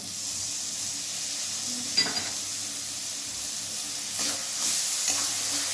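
Tomato paste going into spices frying in a pan for a cabbage curry, with a steady soft sizzle and a few scraping stirs, no talking.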